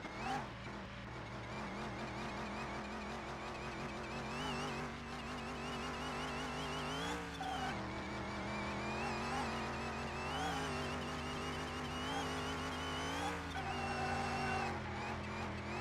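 In Car Mechanic Simulator, a car engine is held at full throttle, a steady, rising and falling mechanical drone that runs throughout, with faint tire skidding as the car slides sideways.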